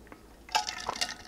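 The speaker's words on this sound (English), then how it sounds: "Sorry, water break here." Water trickles and splashes into a glass for a drink, a few short gurgling pours and drips, close and fairly quiet with no talking.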